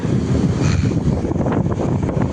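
Strong wind buffets the microphone in a loud, continuous low roar during rain, with a faint rushing of a flooded river beneath it.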